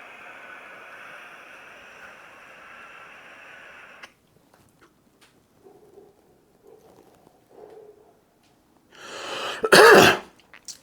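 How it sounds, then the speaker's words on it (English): Harsh cough after inhaling vapor from a Storz & Bickel Venty vaporizer, a loud burst near the end following a stretch of faint hiss and quiet shuffling, close to the microphone. "A little bit of coughing."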